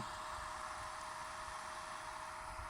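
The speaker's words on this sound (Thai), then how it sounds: "มีเสียง พัดลมนะครับ" A car power box charger's cooling fan runs while charging, giving a steady, even whir with a faint hiss that holds unchanged from start to finish, with no talking.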